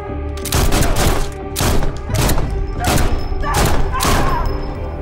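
Rapid bursts of gunfire, several shots in quick succession forming a loud, sustained fusillade with heavy thuds, close and dominant throughout, no talk over it.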